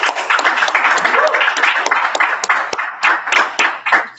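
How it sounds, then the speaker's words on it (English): An audience at an evening networking event claps in a lively burst of sharp, close hand claps, uneven and fairly loud, thinning slightly toward the end. "just clap that one more time"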